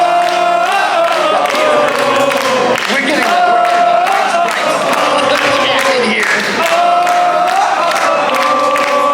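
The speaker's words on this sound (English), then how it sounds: "That crowd noise here is definitely going to be the loudest now." Crowd cheering and shouting at a classic Tetris tournament semi-final at a gaming expo, a loud, sustained roar with rising whoops, while someone talks close by over the noise.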